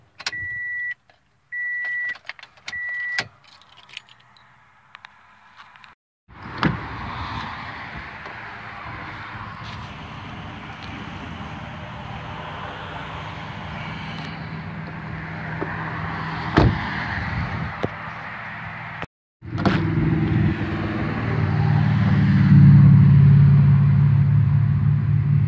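A 2007 Toyota Yaris with a few beeps and a door or window sound at first, then a steady low engine rumble with faint clicks, cutting off briefly before a louder, deeper running stretch closes out.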